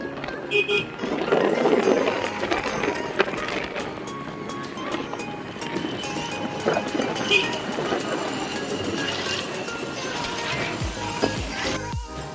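A train rumbles through Badlapur railway station at night amid steady mechanical noise and crowd bustle, with a brief horn toot.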